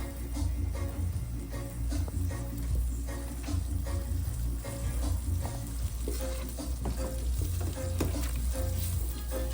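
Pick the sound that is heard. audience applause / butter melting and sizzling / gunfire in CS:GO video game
butter melting and sizzling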